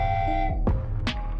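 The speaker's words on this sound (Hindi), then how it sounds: "तभी वहाँ वो भूतिया ट्रेन एक हॉर्न के साथ आ रही होती है" Cartoon ghost train arriving at a railway station, a sustained tonal horn over engine rumble followed by two sharp bursts near the end, fairly loud and close.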